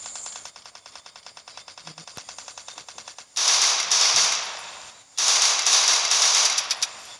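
In the Free Fire video game, a rapid rattling automatic weapon fires for about three seconds, then two louder, harsher sustained bursts follow, separated by a brief gap, all close and dominant.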